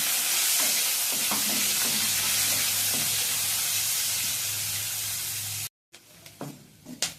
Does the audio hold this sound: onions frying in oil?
yes